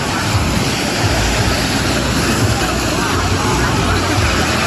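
Sea waves break continuously at Thuận An beach in Huế, a dense, unbroken wash of surf with wind noise and distant voices mixed in.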